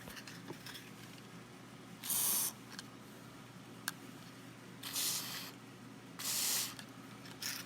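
Dry lube sprays into a car moonroof track in three short hissing bursts, with a few faint clicks and quiet handling noises between them.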